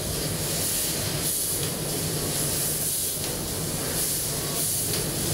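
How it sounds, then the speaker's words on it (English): Plasma cutter slicing metal and throwing sparks in a machining shop, a steady loud hiss with a high whine above it, continuous and close throughout. "Check out these plasma lasers creating quite the spark."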